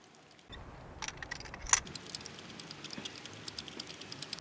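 A spark plug socket tightens a plug into an MK6 Volkswagen GTI/GLI engine, giving a run of small, close metallic clicks and light jingling that taper into quiet, steady ticks.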